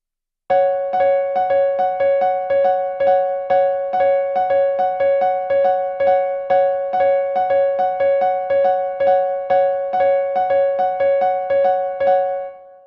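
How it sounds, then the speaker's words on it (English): A dense, steady cross-rhythm of bell-like pitched notes, six beats against seven, repeats evenly for about twelve seconds and then stops. "6 against 7 sounds like this"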